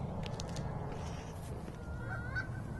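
A flock of geese honks continuously during an Arkansas goose hunt, several overlapping calls at moderate distance over a steady outdoor background, no speech.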